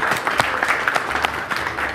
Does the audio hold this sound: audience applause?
yes